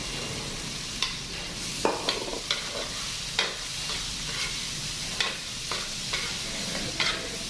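Onion and garlic sautéing in a pan for monggo guisado, a steady close sizzle punctuated by a series of sharp stirring scrapes and taps, with no talking.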